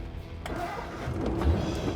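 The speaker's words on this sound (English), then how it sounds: "As soon as you put it into neutral, you need to get right back on the gas to keep the revs up." A vintage road-race car's engine fires and revs in short uneven bursts, struggling to idle as the throttle is blipped, heard close and fairly loud with a rough low rumble.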